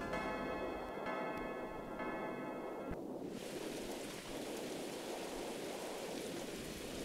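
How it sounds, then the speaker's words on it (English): A storm in a horror role-playing video game, with steady rain hissing throughout and a low rumble of thunder, and a faint ticking tone that fades out partway as the rain swells. "The storm has picked up, so you'd better run in before you get soaked."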